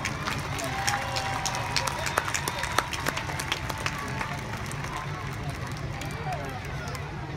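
An audience applauds a show-jumping stallion, Diamant de Semilly, at an equestrian event, with sustained dense clapping and crowd murmur throughout at moderate, distant-sounding level.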